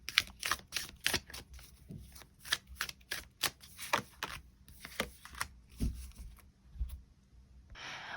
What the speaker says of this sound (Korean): 추가 카드로 몇 장 더 뽑아보도록 하겠습니다